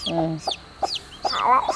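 A domestic hen near newly hatched chicks clucks several times in short, sharp bursts at close range, with a higher squawk near the end.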